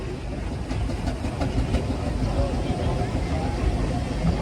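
Heavy, steady mechanical rumble of a heavy-duty Fowler steam traction engine of about 17 tons labouring at a rally, with low chuffing and clanking throughout, fairly close and continuous.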